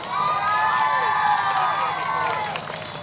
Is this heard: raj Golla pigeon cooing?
no